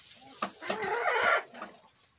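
Pushkin breed hens from a Saint Petersburg line cluck and squawk nearby in a few quick, uneven bursts, briefly louder in the middle, with no talking.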